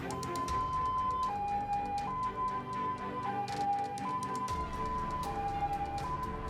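An ambulance siren carrying fire victims wails in a two-tone pattern, alternating high and low notes steadily over background traffic noise.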